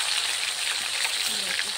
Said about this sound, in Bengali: তেলে প্রথমে ভাজা হচ্ছে রুই মাছের মাথা।